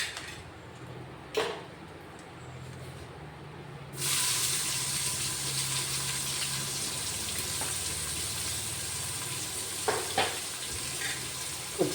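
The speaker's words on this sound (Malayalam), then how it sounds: "നമുക്ക് ഈ എണ്ണയിൽ തന്നെ ബിരിയാണിക്ക് വേണ്ട" Onions for mushroom biryani hit hot oil partway through, setting off a sudden loud sizzle that settles into a steady close frying hiss after a few quieter taps and knocks.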